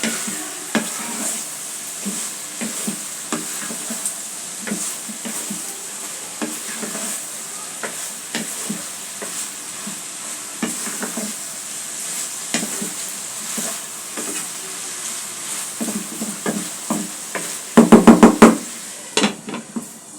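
Bitter gourd and egg fry with coriander leaves sizzles in a pan while a spatula stirs it in irregular scraping strokes, with steady frying hiss underneath and a quick burst of knocks near the end.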